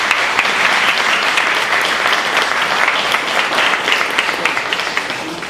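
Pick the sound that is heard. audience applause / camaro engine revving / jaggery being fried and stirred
audience applause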